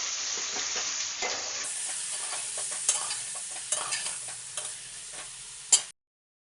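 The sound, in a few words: brinjal pieces frying and stirred in oil tempering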